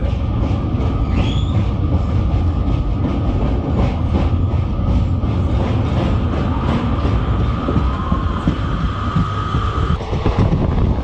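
The Sabari Express passenger train runs at speed through a station without stopping, a loud continuous rumble with rattling wheel clatter and faint squeals, steady for the whole stretch.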